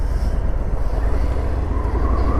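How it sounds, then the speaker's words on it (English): A 2019 Harley Davidson Fat Bob 114 motorcycle on a test ride, its engine a loud, steady low rumble mixed with heavy wind buffeting across the microphone, no voices. "Just test riding a Harley Davidson,"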